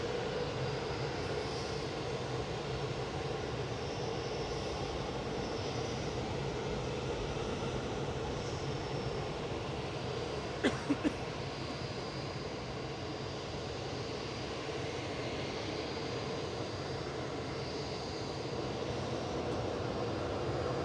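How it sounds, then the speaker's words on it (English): An EasyJet airliner departs Manchester Airport, its jet engines roaring steadily at a distance for the whole stretch, with a couple of faint clicks partway through. "EasyJet's OE is departing now back to Milan with flight 3836."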